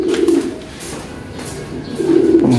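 Racing pigeons coo in a breeding loft, several soft, rolling calls repeating in short bursts close by, with faint loft background between them.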